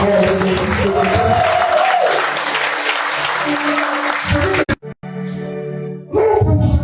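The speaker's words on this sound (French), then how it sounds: "Acclamons très fort mon fils ce matin" A church congregation applauds the preacher's son with loud, sustained clapping and a little cheering. The clapping dips briefly, then swells back up, with voices mixed into the crowd.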